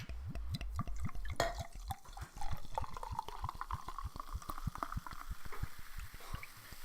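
Drink glugging from a freshly opened bottle into glasses, a steady rapid series of liquid glugs and splashes close by, with a brief clink partway through.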